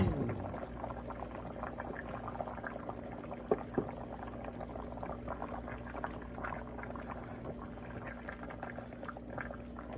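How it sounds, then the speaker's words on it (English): Beef neck bones cooking in a covered pot, a steady low bubbling sizzle with soft pops and crackles throughout, quiet and close with no talking. "put the top on this bad boy and let it do a sizzle"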